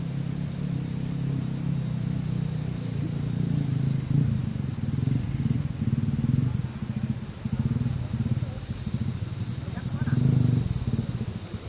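A low engine rumble drones throughout, swelling slightly as a motorbike seems to pass nearby, with voices talking over it.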